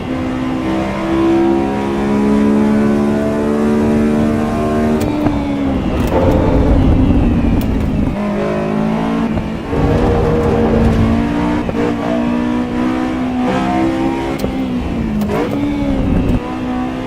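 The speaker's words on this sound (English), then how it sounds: "That, my friends, is VTEC." A Honda S2000 with VTEC revs hard in the Assetto Corsa EVO racing game, its loud engine whine climbing through the gears again and again, with sharp drops at each shift before it rises once more.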